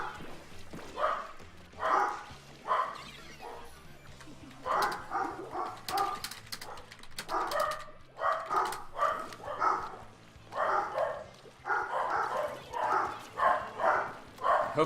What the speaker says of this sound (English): because those dogs barking is